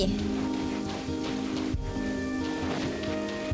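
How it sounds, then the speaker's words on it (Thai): Heavy rain pours steadily in the video game Genshin Impact, a dense continuous hiss of drops on surfaces at a loud, even level, with faint game tones underneath and no speech. "ฝนตกใหญ่แล้ว"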